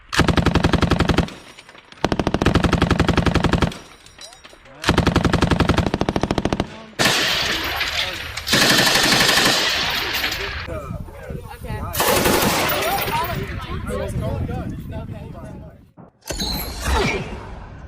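A Pecheneg PKP machine gun fires loud sustained automatic bursts, three long strings with short pauses, then scattered shots and rattling mechanical noise.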